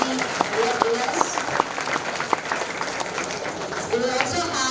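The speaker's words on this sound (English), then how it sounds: "Audience, please applaud the winners." An audience at a school orientation program applauding winners, steady dense clapping with a voice speaking over it throughout.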